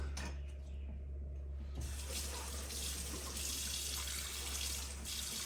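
Tap water runs in a steady, quiet stream as it is poured into a wine-making airlock, a soft continuous rush with a slight change in tone partway through.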